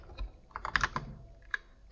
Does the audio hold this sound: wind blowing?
no